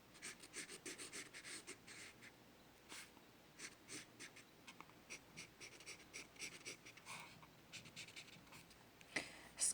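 An HB pencil sketching on paper gives close, steady scratchy strokes in quick repeated bursts, each a short rasp of graphite on the sheet, with no voices.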